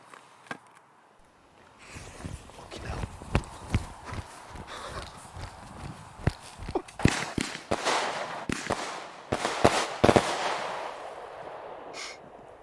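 Fireworks are set off on a road near the border at Crossmaglen, Northern Ireland, sounding as a run of sharp cracks and pops that grows denser and louder toward the middle, with crackling bursts over outdoor background noise.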